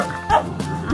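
A dog gives a single short bark, close by, with a person speaking around it.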